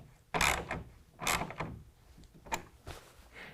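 Clamps on a tonneau cover rail being tightened on a 2019 Chevy/GMC 1500 crew cab pickup, heard as a few close metallic ratchet-like clicks and scrapes in separate bursts with quiet gaps between.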